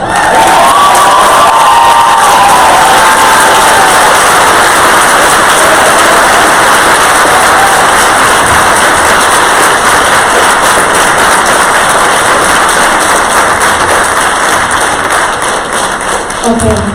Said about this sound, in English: we cannot have the clapping or comments in between comments or statements